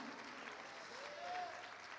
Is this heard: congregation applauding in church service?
yes